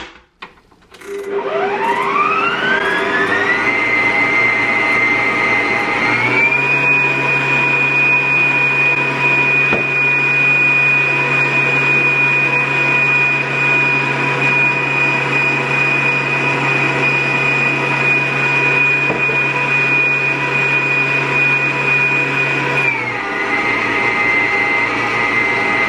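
An electric mixer with a stirring paddle attachment beats cake batter, starting with a rising whir before settling into a loud, steady motor whine that shifts pitch slightly partway through and near the end, with no talking.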